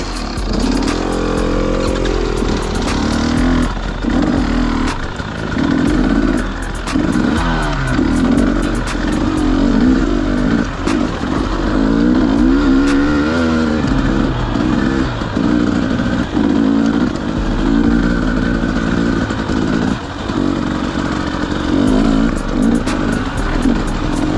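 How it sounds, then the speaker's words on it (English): Off-road dirt bikes ride through New England mud, their engines buzzing and revving continuously and loudly close by, rising and falling with throttle changes and clattering over rough ground. "These bikes are amazing though."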